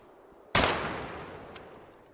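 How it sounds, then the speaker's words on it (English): A single sharp explosion in the video game Dead Matter bursts out suddenly, loud and close, then trails off in a long rumbling decay with a faint crack afterward. "Explosions in this game look amazing when it's up close."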